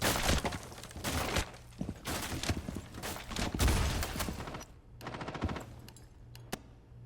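Video game gunfire, rapid automatic bursts and single shots firing back to back, loud and close, with a few short gaps toward the end.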